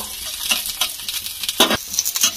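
A small onion frying in a pan, heard as a soft sizzle broken by a few distinct stirring scrapes and clatters. No one speaks.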